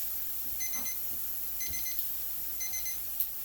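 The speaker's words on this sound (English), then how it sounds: "setting the timer for 3 minutes" A kitchen timer set for three minutes while spiced pork cooks for Greek wraps goes off with three evenly spaced bursts of quick, faint electronic beeps and no talking.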